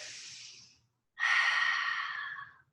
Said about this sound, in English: Long, slow breathing.